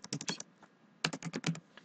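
Quick bursts of keystrokes on a computer keyboard, clicking in two short clusters separated by a brief pause, close and crisp with no talking.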